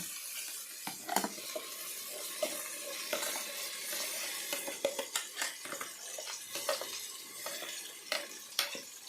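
Ground chili paste masala with softened tomato for a fish curry, stirred and frying in a pan: a soft continuous sizzle broken by scattered scraping clicks and knocks of the spoon against the pan, with no talking.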